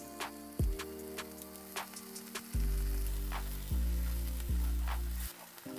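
Nine ounces of pork chorizo frying in a pan on medium heat, a continuous crackling sizzle that swells with each stir and stays close and even throughout.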